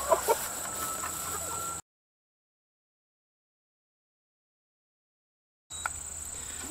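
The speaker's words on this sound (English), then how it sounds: "That's a big chicken." A big meat chicken raised in a city backyard clucks a few times near the start, with a gap of silence mid-clip and quiet ambient noise on either side.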